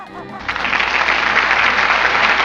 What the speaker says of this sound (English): Oh, hold your applause.